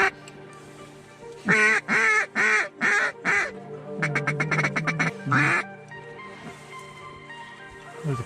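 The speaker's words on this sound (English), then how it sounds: "There's a pintail right there." A pintail duck calls near a hunting spot, a series of loud, close, raspy quacks in rhythmic bursts, then a faster run of calls, with other waterfowl sounds faint behind.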